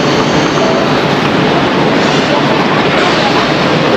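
Jakarta-Bandung high-speed train heard from inside, a loud, steady broadband rumble and rush of the carriage in motion without pause.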